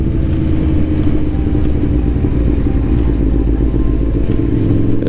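A 2021 Aprilia Tuono V4 Factory motorcycle engine pulling at low speed in third gear, a loud, deep, continuous rumble with a faint rapid ticking above it, close and steady throughout.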